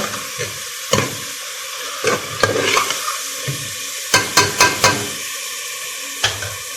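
A spatula scrapes and knocks against a pan, stirring ground spices into frying ridge gourd (turai), while food sizzles steadily underneath, with several sharp clinks in quick succession partway through.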